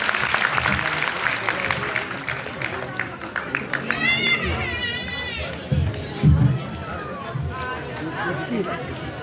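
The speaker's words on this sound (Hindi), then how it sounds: "एक बार उनकी सम्मान में आपकी तालियां हो।" Applause and crowd chatter at a poetry gathering marking Atal ji's centenary, greeting poet Sarla Mishra. Scattered clapping fades into murmuring voices, with a few louder voices and brief tones breaking through midway.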